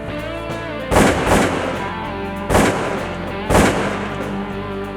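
Three shotgun blasts from a Louisiana duck hunt firing Federal Black Cloud special loads, sharp loud reports spaced over a few seconds, the first a quick double, each with a short decaying tail over a steady background hum.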